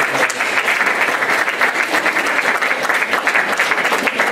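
Audience at an Open Access Week conference session in the Bay Area giving a sustained round of applause, dense and loud clapping with no break.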